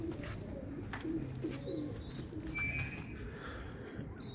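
Pigeons from a fancier's old-style flock coo in low, soft, continuous murmurs over faint background hiss, with no talk.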